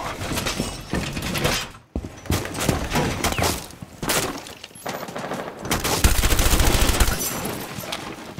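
Rainbow Six Siege gunfire on the Outback map in a team deathmatch secure round, loud bursts of automatic fire and scattered single shots with brief gaps, then a sustained rapid burst near the end.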